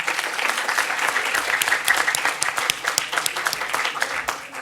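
A hall audience at a moot court award ceremony claps loudly and continuously, individual claps crisp and close, with no talk over it.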